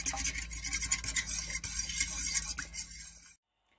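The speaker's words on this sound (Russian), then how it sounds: "Перемешиваем." Zebra cake batter with milk stirred in a bowl, a close, continuous scraping and swishing of the utensil against the bowl for about three seconds before cutting to silence.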